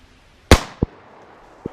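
A single sharp, close pistol shot fires frangible hollow-point rounds at an AR500 steel target. It is followed shortly by a short metallic clang from the struck steel, then a second fainter knock a moment later.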